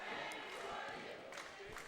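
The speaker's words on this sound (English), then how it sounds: "the Paly cheer section is going very loud" Loud student cheer section roaring at a high school boys basketball game between Paly and Cupertino, a dense, sustained crowd din filling the gym with faint bursts on top.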